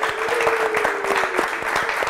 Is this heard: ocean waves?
no